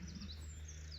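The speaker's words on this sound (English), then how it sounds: "Hear the birds singing." Birds chirp and sing faintly outdoors beside a quiet sheep field during lambing season, with a steady low rumble of background hum and no voices.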